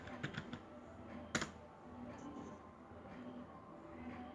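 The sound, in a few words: typing HTML on a computer keyboard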